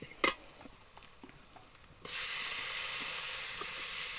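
Spice paste stir-fried with chopped tomato for a pumpkin curry, starting with a few scraping stirs over a low sizzle, then a sudden loud, steady frying hiss as the tomato goes in, continuing to the end.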